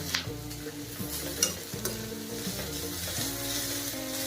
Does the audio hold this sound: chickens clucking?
no